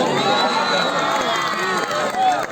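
Spectators at a village kabaddi final cheer and clap loudly, a dense crowd roar with shouting and whoops, while a commentator talks over it.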